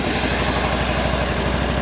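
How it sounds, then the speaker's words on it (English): A Kawasaki Versys X-300 motorcycle engine idles while warming up, a steady, close, even mechanical thrum with a fast regular pulse and no voices. "we're going to crank the bike up, warm it up a little bit"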